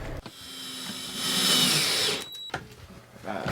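A power drill drives screws into pallet board for pallet barn doors, whining in a rising then falling pitch for about two seconds close by, followed by brief knocks and a quieter pause.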